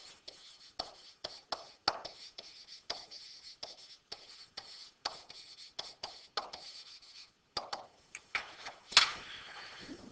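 A pen or pencil scratches by hand through a math solution, working out a particular solution with short strokes in steady bursts. The writing is close and quiet, and no one talks.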